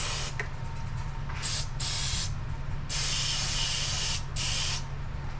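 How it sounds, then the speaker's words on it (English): Repeated bursts of electrical cleaner spraying from an aerosol can around the engine bay of a 2003 Chevy Cavalier four-cylinder, several hissing blasts of a second or so each over a steady low hum. "That's just the electric cleaner"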